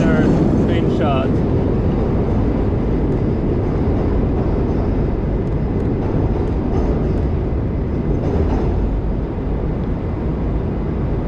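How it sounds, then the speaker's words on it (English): A train crosses a river bridge, a steady rumbling roar heard from a distance outdoors that fills the whole stretch with constant noise. "Oh, the train is over there."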